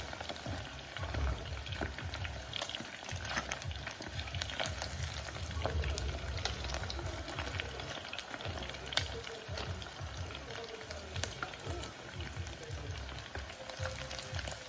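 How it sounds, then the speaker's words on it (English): Continuous crackling sizzle of chicken frying in hot oil, with scattered sharp pops over a steady hiss. "once the chicken is done frying, I'm just going to transfer it over to that"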